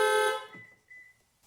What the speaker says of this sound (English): We heard those horns honk